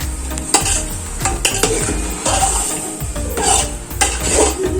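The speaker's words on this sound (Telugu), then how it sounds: "ఇదంతా ఒకసారి కలిసేట్టుగా మిక్స్ చేసుకోవాలి." Mutton pulao spices, chilli powder and curry leaves frying in a pan as a spoon stirs and scrapes in repeated strokes over a loud, close, continuous sizzle, with no one speaking.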